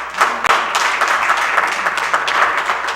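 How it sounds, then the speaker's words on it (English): Audience members at a city council meeting clap in steady, close applause that fills the whole stretch without pause. "And I appreciate the applause"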